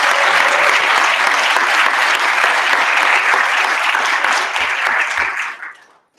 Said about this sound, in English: So a little applause for these people that put their name on that.